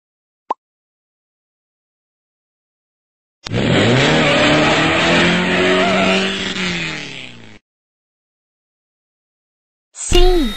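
A cartoon car engine revs in a single loud sweeping burst lasting a few seconds, with pitch rising and falling like acceleration, preceded by a brief click and followed by another short burst.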